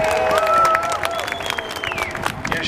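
An outdoor audience claps and cheers at the 2023 Battle of Stoney Creek re-enactment, a brief burst of scattered applause with a few sustained tones ringing through it.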